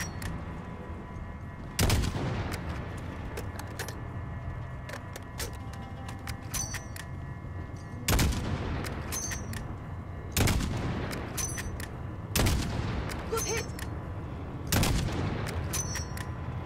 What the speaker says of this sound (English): I'll shoot their tires, I guess.